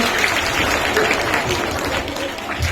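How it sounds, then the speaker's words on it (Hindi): Applause at a Hindi Day school event in India welcoming a student poet to the stage, a dense, continuous clapping from a crowd that sounds close and fairly loud throughout. "तो जोरदार ताली के साथ इनका स्वागत करिए।"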